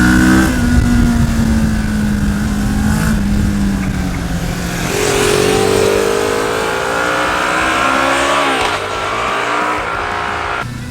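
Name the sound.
Moto Morini X-Cape 649 motorcycle engine and exhaust sound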